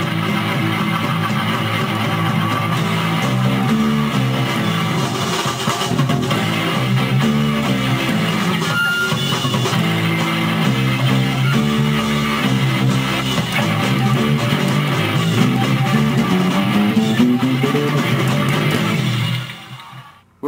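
Bass guitar playing a break riff, a steady groove of repeated low notes with accompanying band backing, continuous and loud before stopping abruptly at the end.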